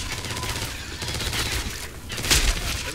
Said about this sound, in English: Hunting rifle, let's go!